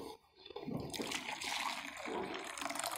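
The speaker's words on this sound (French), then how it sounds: "inhalateur dans lequel il va mettre de l'eau chaude" Hot water poured into an inhaler bowl, a continuous close splashing pour that starts after a brief quiet moment and keeps running steadily.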